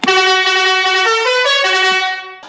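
A loud, steady air horn blast mounted on a tractor holds for about two seconds, shifting pitch slightly midway before cutting off, close and alone.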